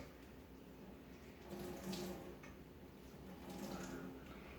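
A damp cleaning cloth is wrung out by hand, giving soft watery trickling and dripping that swells twice, quiet and close with no talking.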